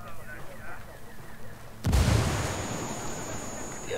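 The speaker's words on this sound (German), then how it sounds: "Wir haben die Explosion bestimmt gehört." Grenade explodes in the video game Ghost Recon Wildlands, a sudden loud deep blast that cuts in midway and leaves a lingering rumble with a ringing tone, after quieter game sounds and a voice.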